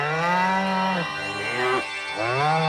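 A cartoon cow moos, one long low bellow that dips and then rises again, loud and close, heard alone.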